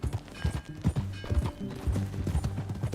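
Horse hooves in Red Dead Redemption 2 clip-clop in a steady, uneven rhythm close by, moderately loud and alone with no talk over them.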